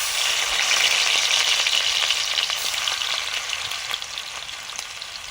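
Whole garam masala with garlic and onion paste frying in hot oil for an egg poach curry, a steady close sizzle with bright crackling spatters, easing slightly toward the end with no voices.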